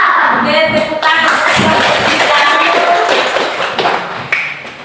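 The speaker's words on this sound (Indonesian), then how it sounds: "Oke, tepuk tangan." Children clap their hands in applause in an Indonesian classroom. The clapping is brisk and crowded, with overlapping slaps and brief voices mixed in, loud and close, then trailing off near the end.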